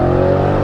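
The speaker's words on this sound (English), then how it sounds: "I love being in manual in this car. You get a lovely rumble." A 730 bhp Audi RS6 in manual mode gives a loud, steady, close low rumble from inside the cabin, a brief sustained engine tone.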